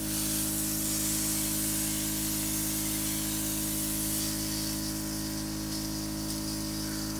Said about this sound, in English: You can just hear that the air is just blowing